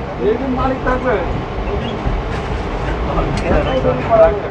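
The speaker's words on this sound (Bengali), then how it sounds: "ফাইনালি ব্যারাকপুর থেকে আমাদের ট্রেনটা বিদায় নিচ্ছে।" A Sealdah-bound local train pulls out of Barrackpore station, heard from inside the crowded carriage as a low rumble with rattling and clattering of wheels and fittings, while passengers talk nearby over the moving train.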